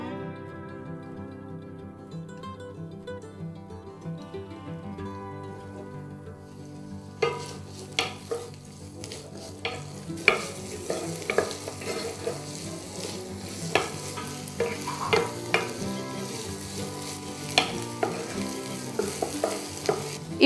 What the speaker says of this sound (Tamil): இந்த எண்ணெய் கொஞ்சம் சூடானதும் இதில் பொடியாக கட் பண்ணி வச்சுருக்கிற வெங்காயம்,